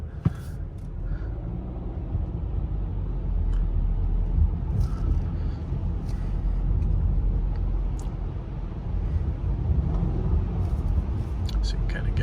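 A 2017 Subaru Legacy rolling slowly through a parking lot, with a quiet, low engine hum and cabin rumble running steadily under faint, occasional sounds inside the car.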